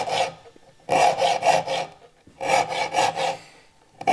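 A hand file sharpens saw teeth held in a shopmade saw vise, rasping in two close bursts of about four quick strokes each, separated by short pauses.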